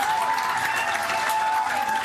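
A studio audience at a televised political talk show claps and cheers in a sustained, dense burst of applause that stays steady and fairly loud throughout.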